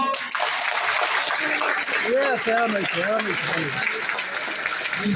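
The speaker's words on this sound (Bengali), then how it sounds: "দেখি তো সুস্থ রাখার জন্য একটা তালি দেন তো" An audience at a company meeting claps continuously, a broad steady wash of applause with voices calling out over it in the middle.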